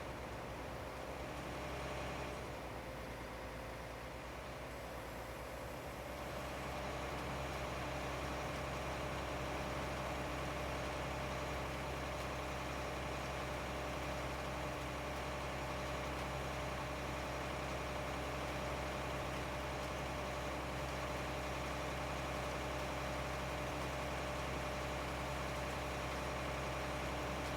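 A tractor engine idling in the farming game Midtown USA, a steady low droning hum with a constant tone that continues unchanged throughout, with no voices.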